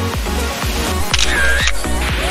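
Repeated camera shutter clicks, several in a row, ring out at a cold spring outing, close and fairly loud over a steady low rumble of background noise.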